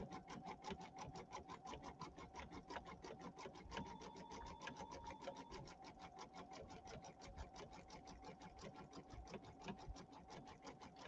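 An embroidery machine stitches a wide satin stitch around an in-the-hoop ironing pad, its needle pounding in a fast, even rhythm that stays steady and quiet throughout.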